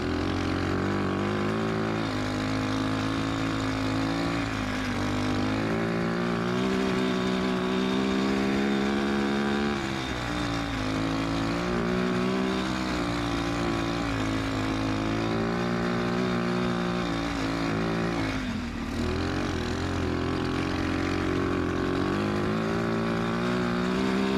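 A homemade snow bike's engine running continuously during an off-road ride, a loud, close buzzing drone that rises and falls with throttle changes and dips briefly near the end.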